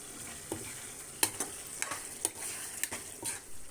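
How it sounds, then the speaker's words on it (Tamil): Chicken cooks in oil with ground pepper masala for a Tamil-style pepper chicken fry, giving a steady soft sizzle broken by a handful of sharp stirring clicks and scrapes, close by with no talk. "எண்ணெய் இருக்கிறதுனால நம்ம இந்த எண்ணெயிலேயே சிக்கனை வேக வச்சுக்கலாம்"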